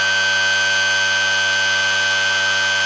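A rebuilt pulse motor runs at about three-quarter throttle, a steady, unbroken electrical whine with a high pitched tone and a constant hum, loud and close with no pauses or talk.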